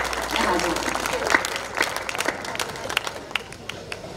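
An audience at a Hindi poetry recital (kavi sammelan) at a Dussehra fair in Banswara applauds, a crowd clapping loudly at first then thinning to scattered, tapering claps.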